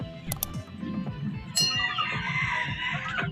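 Young male chicks penned in a coop, clucking and peeping in quick repeated calls, close, with a louder burst of crowing-like cries midway.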